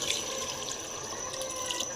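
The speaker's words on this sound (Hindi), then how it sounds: "तो ये हमने डाल दिया पानी 2 गिलास।" Water poured from a glass into a pot of cooking vegetable gravy, a steady splashing, trickling pour for about two seconds at moderate level with no talk.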